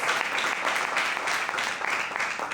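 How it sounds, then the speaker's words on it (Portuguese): Congregation clapping at a church service, a dense, steady patter of many hands filling the room throughout, with faint voices mixed underneath. "Você pode aplaudir ao Senhor, amém?"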